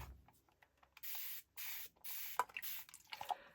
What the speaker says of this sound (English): Right, so then I'm going to get my sophisticated spray booth.